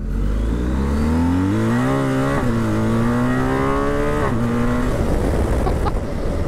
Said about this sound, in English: Let's have another little rev on this one.